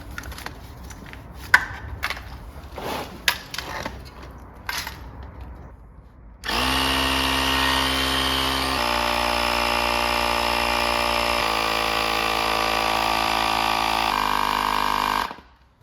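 An Airman Tour portable air compressor inflating a flat motorcycle tyre, powered from the front socket of a Triumph, starts after a few quiet clicks and handling noises and then runs as a loud, steady, close mechanical drone.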